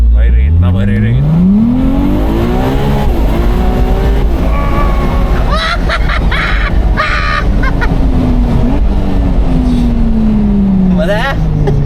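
A 2025 Ferrari 296 GTS launches in a drag race against an AMG, its engine revving up through rising sweeps, loud and close, with people talking over it.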